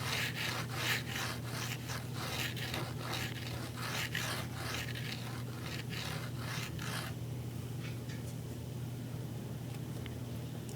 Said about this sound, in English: Then I take my finger and rub that